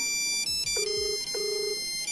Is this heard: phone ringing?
yes